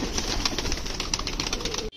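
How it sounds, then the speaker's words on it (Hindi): A dense flock of pigeons being fed grain coos and rustles nonstop at close range, a busy murmuring chorus with soft fluttering throughout. "तो अभी अपने कबूतरों को दाना डालते हैं"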